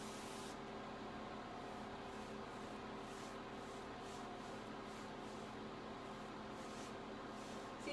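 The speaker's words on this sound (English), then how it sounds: "I'm going to spray just a little bit here" Paint sprayed onto a furniture piece during a makeover, a steady close hiss of spray that runs continuously with slight pulses from the up-and-down strokes.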